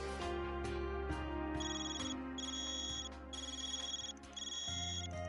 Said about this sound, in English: your cipher's ringing